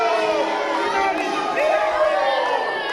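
Crowd at a CCW Chaos wrestling event cheers and shouts continuously, loud and close, with whoops rising over the general roar and a commentator speaking over it.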